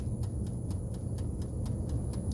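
A laboratory centrifuge running balanced and quiet, a smooth low hum with a faint steady ticking repeating about every quarter second.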